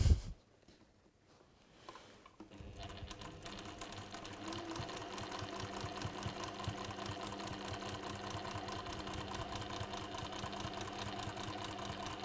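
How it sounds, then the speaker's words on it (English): A sewing machine stitching around the curve of a handmade bag, starting after a brief quiet pause and then running as a steady, fast, even mechanical whirr to the end, faint and alone. "I'm just sewing around that curve"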